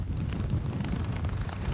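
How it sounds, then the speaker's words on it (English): Strong hurricane wind gusts during Hurricane Dolly roar as a steady, dense rumble buffeting the microphone, loud and continuous, with no voices over it. "Winds picking back up?"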